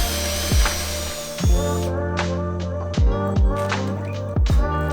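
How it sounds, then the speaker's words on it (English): A power drill with a 1/2-inch bit bores holes in wood, several short whining bursts that rise and cut off in a repeating rhythm, close and loud with no talking. "Now I just got to drill all the holes."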